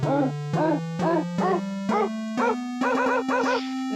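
Dogiana, a web-based instrument, plays a rising sequence of pitched dog bark samples, about ten short tonal barks in steady rhythm, close and clear with no talking.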